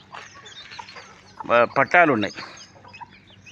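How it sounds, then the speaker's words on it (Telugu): Chickens and roosters at a small poultry breeding unit, several near, loud clucks bunched together in the middle with quieter fowl sounds around them, and someone speaking briefly. "పిల్లలు ఉన్నాయి, పుంజులు ఉన్నాయి,"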